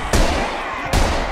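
Two loud gunshots in the video game S.O.S., each a sharp blast with a short ringing tail, fired close together less than a second apart.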